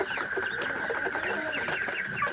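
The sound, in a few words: chicken clucking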